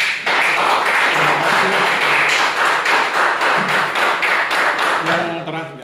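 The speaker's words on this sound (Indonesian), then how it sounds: "aplaus buat beliau" Applause for a presenter in a class fills the room with dense, close, loud clapping from many hands that holds steady for several seconds, then tapers off with a voice talking at the tail.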